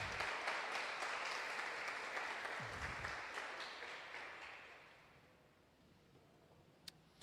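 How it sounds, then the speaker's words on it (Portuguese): A church congregation claps together in a sustained burst of applause that gradually fades out over several seconds, leaving a quiet room with a couple of faint clicks. "Pode aplaudir o Senhor, que Ele merece."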